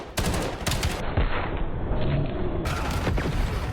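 Rapid gunfire in Call of Duty: Black Ops, dense overlapping shots and bursts that are loud, close and continuous, with no talking.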